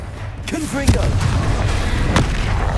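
Confringo explosive spell blasts in Hogwarts Legacy gameplay, with sharp booming bursts over a dense rumbling game soundscape, plus a brief voiced spell call in the middle.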